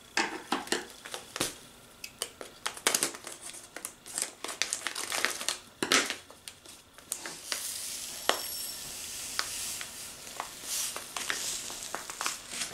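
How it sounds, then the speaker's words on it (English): Someone opens a plastic bag of craft sand, with sharp crinkling and crackling of the bag in uneven bursts and a few sandy rustles, close by and with no talk. "Okay, and then we're going to open our sand"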